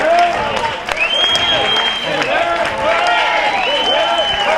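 Steady applause for the runners-up, the Chorley Buccaneers, after an under-13s American football final, as the opposing team lines up to clap them through; dense, continuous clapping with whistles and crowd noise mixed in.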